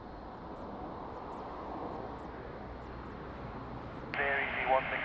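An Air Canada airliner on final approach at Lisbon Airport makes a steady, moderately distant broadband roar that holds evenly throughout, with a brief radio or voice burst near the end.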